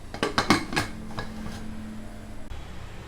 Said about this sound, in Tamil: அப்படியே நம்ம மூடி வச்சிடணும்.